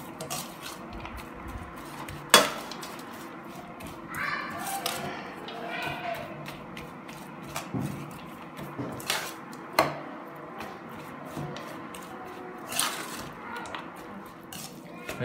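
Seasoned meat stuffing for stuffed tofu in tomato sauce is stirred in a bowl, giving soft scraping, intermittent utensil clinks and a few sharper knocks, while someone talks throughout.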